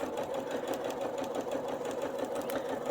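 A sewing machine stitching steadily at speed while pockets are added to a garment, giving a continuous close mechanical whirr with a fast rhythmic needle patter throughout and no talk.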